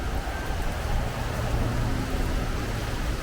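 Steady wash of roadway noise as cars drive past on a wet road during Hurricane Debby, a continuous broadband hiss of tires on water with wind and rain, fairly distant and unbroken.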